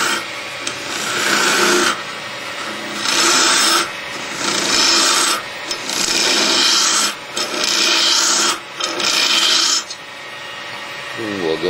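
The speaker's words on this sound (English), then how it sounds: "Now we'll come around and hollow out the inside of the acorn." A hand tool rasps and scrapes the inside of a carved wooden acorn, hollowing it out in about six steady, close strokes separated by brief pauses.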